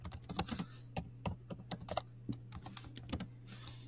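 Computer keyboard being typed on in an irregular run of clicks, moderately close over a low constant electrical hum, with no speech during the keystrokes.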